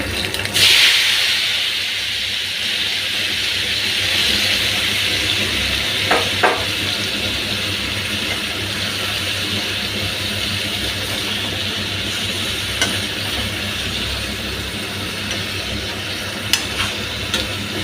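Mutton coated in turmeric sizzles steadily in a hot pan, a continuous close frying hiss with a few faint clinks and stirring scrapes breaking through.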